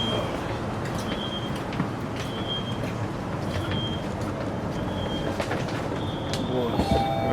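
Riding aboard a new Ipswich train: a steady low rolling rumble of the carriage in motion, with intermittent high electronic beeps and faint talk in the background.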